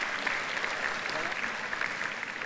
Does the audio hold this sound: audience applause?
yes